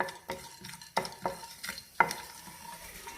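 Black pepper and cumin frying in hot oil for a village-style kengara dish: a low crackling sizzle broken by several sharp spatula scrapes and knocks against the pan, close by and irregular.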